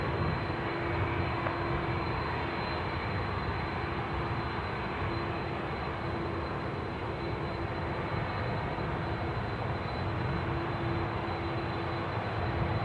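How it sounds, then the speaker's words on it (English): A Qantas airliner departs Sydney Airport at night, its engines a steady, continuous broadband roar at moderate distance that holds level throughout, with a faint tonal whine running underneath and no one talking. "This is Qantas 103 to Honolulu"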